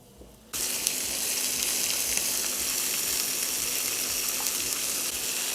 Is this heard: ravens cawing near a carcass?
no